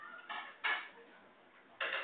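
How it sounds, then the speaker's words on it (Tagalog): Dishes being washed by hand give a few sparse clattering clinks of plates and utensils, short muffled bursts separated by quiet moments. "Tulungan mo si Aaron mag-ugas ng pinggan."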